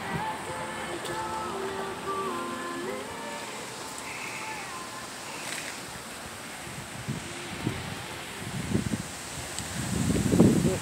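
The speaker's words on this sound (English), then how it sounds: "as you can tell, the wind is blowing" Wind blowing outdoors along a trail, a steady rushing and buffeting against the microphone that gusts stronger toward the end, with faint distant tonal sounds early on and no one talking.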